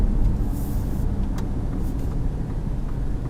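A Ford Ranger Raptor with a 10-speed automatic cruises calmly on the road, heard from inside the cabin as a steady low rumble of engine and road noise, with no speech.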